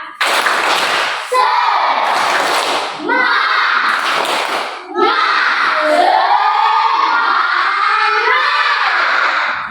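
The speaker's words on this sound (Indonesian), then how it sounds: "mari kita lakukan tepuk semangat" A class of children doing a rhythmic spirit clap together, loud bursts of clapping and shouting voices in several phrases with brief pauses between, close and energetic.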